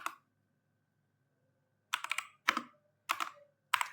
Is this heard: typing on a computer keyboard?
yes